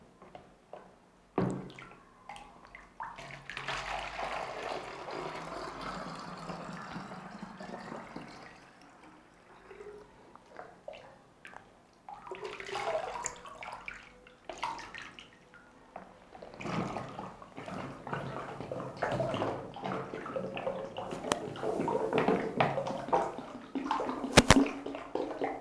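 Water poured from plastic bottles into a large container, bottle by bottle, during a classroom capacity measurement; splashing pours come in bursts with pauses between them, close by and with no talk.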